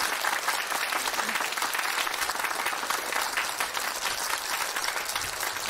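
An audience applauds steadily at a talk, a dense, even wash of clapping held at moderate distance, with no voices over it.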